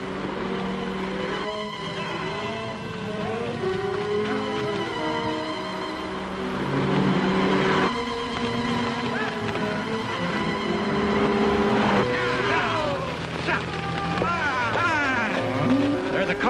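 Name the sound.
car approaching fast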